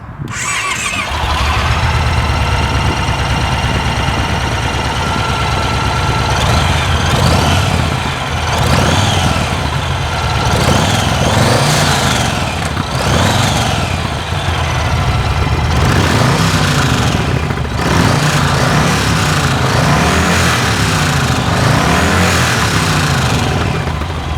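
A Yamaha XV 1900 Stratoliner cruiser motorcycle engine rumbles at idle, then revs up repeatedly in loud surges that fall back to a steady throbbing idle, close and continuous throughout.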